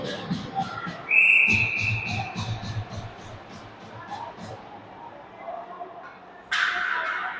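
A referee's whistle at a high school ice hockey game blows one short, sharp blast, loud over arena crowd noise and play-by-play commentary. A second burst of noise follows near the end.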